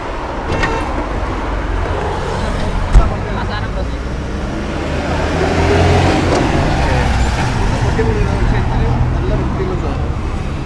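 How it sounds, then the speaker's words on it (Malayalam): A used Yamaha RX two-stroke motorcycle in Kerala runs loud and close in a continuous rough engine drone, with one brief sharp bump partway through and people talking over it. "ഇതിൻ്റെ ഒന്ന് എക്സോസ്റ്റ് നോട്ട് കേൾപ്പിച്ചാലോ?"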